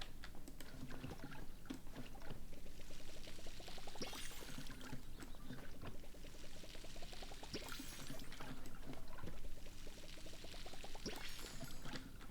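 A watering can pours water onto plants in the video game Palia, a steady soft splashing pour that runs continuously under faint game music and light clicking.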